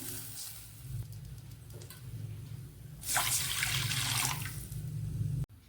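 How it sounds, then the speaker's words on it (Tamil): Two glasses of water are poured into a cooking pot on the stove, a faint background hum giving way to a brief louder splashing pour that ends abruptly, with no talk. "இப்போ நான் ரெண்டு கிளாஸ் தண்ணி ஊற்றிக்கிறேன்"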